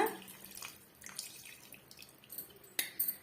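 Tamarind water is strained into a pan for a restaurant-style karakulambu with okra: faint trickling and dripping liquid with small splashes, growing a little louder toward the end.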